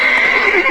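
A horse in a video game lets out one loud, close whinny that lasts just under a second, shrill and wavering, with no talking over it.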